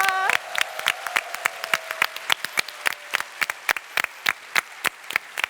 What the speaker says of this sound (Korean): 우리 하나님께 영광의 박수를 올려드리겠습니다